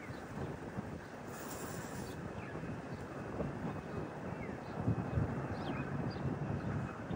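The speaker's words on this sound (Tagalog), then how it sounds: "Tapos yan ang aeroplano. Lumipad." An airplane passes over the sea near an island as a broad, steady, distant rumble mixed with wind noise.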